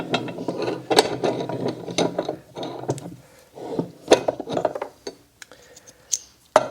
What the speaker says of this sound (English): that came out pretty easy with the arbor press